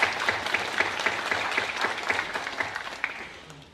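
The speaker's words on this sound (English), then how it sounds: "So give the parents a round of applause" An audience at an academic awards ceremony gives the parents a round of applause. Many hands clap together in a dense, steady patter from a large room, and the clapping fades slightly toward the end.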